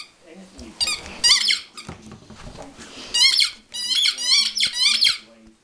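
A dog squeaks a Kong toy in repeated sharp, high squeaks, some in quick clusters and some spaced apart, close by with people talking in between.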